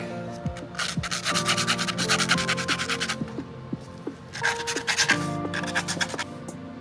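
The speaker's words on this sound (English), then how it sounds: "so I'm gonna sand that down quick" Sanding the frayed cut end of a metal spring from a toy blaster rifle, quick back-and-forth rubbing strokes in several close, loud bursts with short pauses between them.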